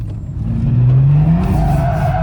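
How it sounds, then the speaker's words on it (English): A BMW M2 F87 with its N55 engine revs hard while drifting, a loud close exhaust note climbing steadily in pitch then holding, with rough tire and road noise underneath. "It's such a distinctive sound of this N55 engine"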